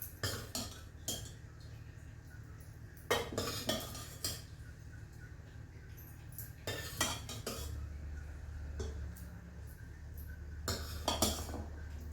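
Cowpea curry is ladled out of a pressure cooker into a bowl. Metal spoon clinks and scrapes come in short, irregular bursts over a low background hum, with no talk.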